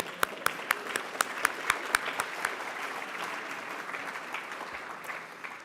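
An audience at a conference plenary session claps, opening with a few sharp, distinct nearby claps that quickly merge into a broad, even wash of applause, moderately loud and filling the room.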